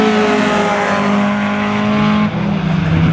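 A Super 2400 class rallycross race car at Gardermoen howls past loud and close during a 2018 Norwegian championship heat, its raspy, harmonic-rich engine note holding high and then dropping in pitch as it goes by.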